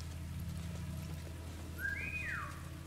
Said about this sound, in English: Whistle on him